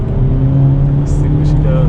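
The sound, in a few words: Hyundai Elantra N engine revving on rev-matched downshift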